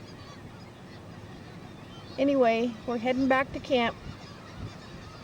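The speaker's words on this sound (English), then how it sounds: "you can hear the gulls carrying on" Gulls calling near a harbour where a fishing boat and a Coast Guard cutter have come in; a loud burst of several harmonic squawks in the middle of the clip, with a person speaking nearby.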